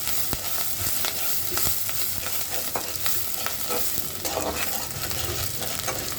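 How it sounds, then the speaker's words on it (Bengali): Onions sizzle and fry steadily in a pan, salted, with repeated scraping stir strokes throughout; close and continuous, no talking. "এর মধ্যে একটু লবণ দিয়ে দিব তাতে করে পেঁয়াজটা খুব সুন্দরভাবে ভাজা হবে"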